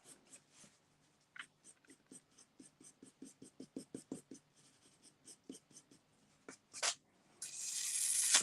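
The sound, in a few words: blending pencil drawing on paper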